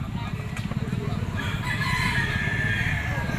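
A Golden Boy sweater gamefowl crows, a drawn-out call rising over steady background noise and low murmuring in a busy pet market.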